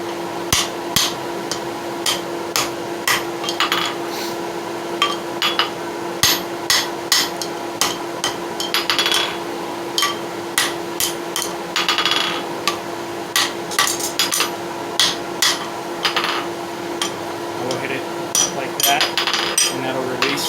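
Hammer forging railroad spike steel over a drift while shaping a bearded tomahawk, sharp ringing metallic blows struck in quick bursts with short pauses, close and loud over a steady background hum.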